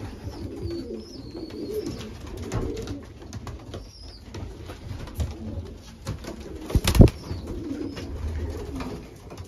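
Young racing pigeons coo softly in a loft, low repeated throaty calls overlapping at close range, with a brief louder rustle or flutter partway through.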